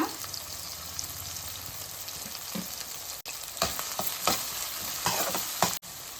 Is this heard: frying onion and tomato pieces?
yes